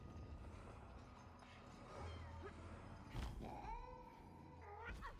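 A giant ghostly cat in the video game Split Fiction lets out drawn-out, wavering meows over a low game soundscape, the clearest cry rising and falling near the end.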